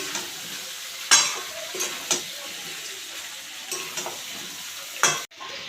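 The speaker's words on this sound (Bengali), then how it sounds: "পেঁয়াজ আদা রসুন মশলা দিয়ে কষিয়ে আমরা মাংসটা দিলাম" Mutton sizzles in a pan with onion, ginger, garlic and spices, with a steady close frying hiss and several sharp scrapes and clinks as it is stirred.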